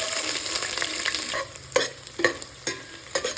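Chopped onions for mutton donne biryani fry in hot oil with a soft continuous sizzle while a spatula scrapes and knocks against the pan in quick, regular strokes. The sound is close and moderately loud, with no voices.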